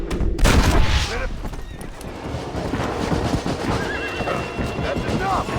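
A horse whinnies loudly at the start, followed by hoofbeats, a burst of gunfire, and shouting voices in a busy scene from Red Dead Redemption.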